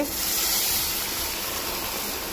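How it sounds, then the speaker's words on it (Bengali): Dal poured into a hot pan over a tempering of dried red chilli and mustard seeds with fried mango hisses and sizzles loudly, a steady close steam spray that eases off slightly. "আর ডালটা ঢেলে দিলাম"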